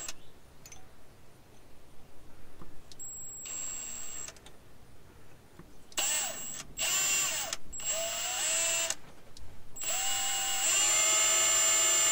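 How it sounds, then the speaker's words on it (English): A power drill bores into the middle of a seized bolt on an old all-terrain wheel loader forklift, running in several whining bursts of a few seconds each, separated by short pauses, with the bursts getting longer and louder toward the end. "now we're gonna try and drill right in the middle of this bolt"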